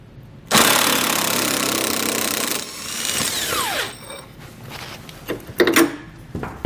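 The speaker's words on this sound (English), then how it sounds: "Take the same size socket, remove this bolt" A power tool with a socket spins out a bolt from a 2020 Chevrolet Silverado's nerf bar mounting point, starting with a loud close steady whir for about two seconds, then tapering into lower revs and short intermittent bursts and clunks.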